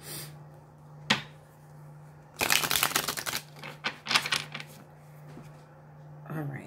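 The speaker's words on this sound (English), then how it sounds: "I'm going to shuffle" Tarot cards are shuffled in two riffling bursts, crisp papery flutters close up, with a few separate taps and knocks in a quiet room.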